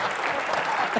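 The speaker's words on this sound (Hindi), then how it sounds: "एक बार जोरदार तालियां आप यहाँ पे" A studio audience on a comedy talk show bursts into brief, dense, steady applause.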